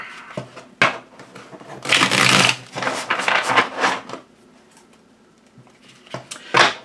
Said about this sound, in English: it riffle shuffles nicely, and I'm a riffle shuffler